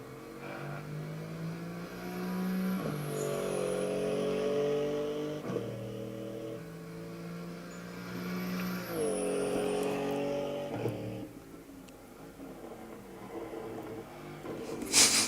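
An estate car's engine in the racing game Assetto Corsa Evo climbs through the revs with repeated gear shifts, then drops to a burbling overrun with low crackles. The drone is steady and sits at moderate volume with no voices.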